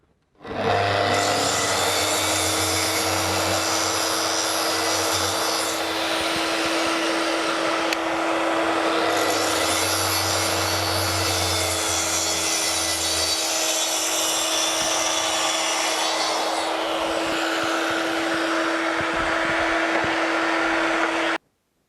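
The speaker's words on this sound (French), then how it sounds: "je retire le bouton et je vais faire ma coupe toute profondeur" A Makita SP6000 plunge circular saw makes a full-depth, splinter-free cut, running as a loud, steady motor whine with gritty blade-on-wood rasp for about twenty seconds before stopping abruptly.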